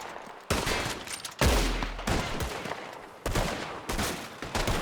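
Rapid, overlapping gunfire bursts in a Red Dead Redemption 2 shootout, loud and close, with several sharp volleys and heavy low-end booms following one another across the whole span.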